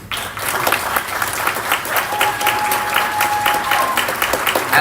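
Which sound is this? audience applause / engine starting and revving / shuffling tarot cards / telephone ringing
audience applause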